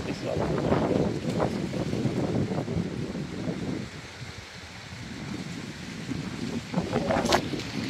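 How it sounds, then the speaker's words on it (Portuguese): Strong wind gusting across a rural smallholding as a storm builds, a continuous rushing buffet against the microphone, with a voice speaking intermittently over it. "tá ventando bastante agora"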